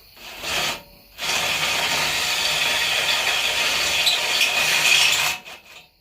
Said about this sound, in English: So now we are just taking the unibit.